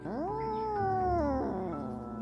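A cat yowls while fighting a snake, letting out one loud, close, drawn-out wail that rises, holds and then drops in pitch.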